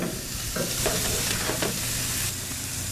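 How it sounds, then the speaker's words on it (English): Pork chops sizzle on a preheated barbecue grill, a steady loud hiss of fat with a few soft crackles and clinks, no talking. "Now we're going to go ahead and put these pork chops on."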